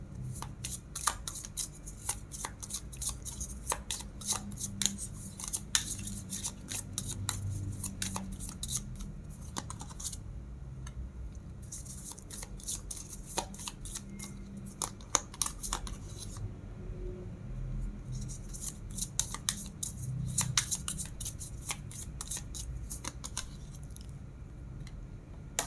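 Tarot cards being shuffled in a steady run of crisp riffles and flicks, close and fairly quiet, with brief pauses between bursts and no talking.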